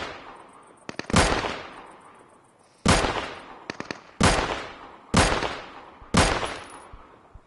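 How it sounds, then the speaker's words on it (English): FAMAS rifle fire in the survival shooter Deadside: five sharp, loud bursts spaced about a second apart, each cracking hard and trailing into a short echoing decay over a faint background. "he's firing a FAMAS or something"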